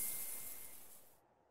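Shower running in the video game Streamer Life Simulator, a steady broadband spray hiss that fades and cuts off near the end, with no voices.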